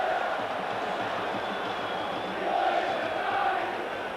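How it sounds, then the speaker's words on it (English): A huge football stadium crowd at Juventus v AC Milan makes a steady, distant roar that rises a little midway, with no single voice standing out. "A huge crowd here."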